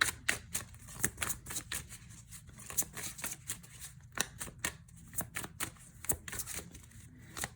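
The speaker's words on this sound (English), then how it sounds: "Bear with me as I'm shuffling." Tarot cards being shuffled by hand, a quick series of close, crisp riffling snaps and soft papery patters in an irregular rhythm, alone in a quiet room.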